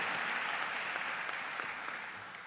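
Audience clapping at a political talk, a dense steady wash of many hands that holds evenly throughout and fades slightly at the end.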